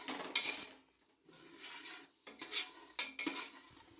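A spoon scrapes and clinks against a pan while stirring frying tomato paste for a chicken biryani, with rhythmic metallic scraping strokes, close up, broken by brief pauses and no talking.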